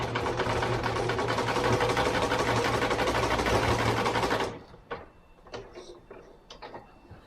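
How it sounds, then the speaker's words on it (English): A sewing machine stitches the top seam of a plush Pikachu leg, a fast, even mechanical whirr close up for about four and a half seconds before stopping, followed by a few soft handling taps. "You just put it in your machine and go right along that top seam line."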